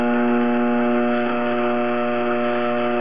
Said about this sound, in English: So we'll turn the Tormek machine on